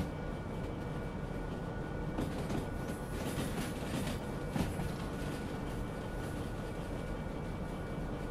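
A locomotive rolls along the rails in Derail Valley with a continuous rumble and a faint rhythmic clatter, fairly loud and steady throughout.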